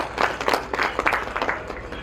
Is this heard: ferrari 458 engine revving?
no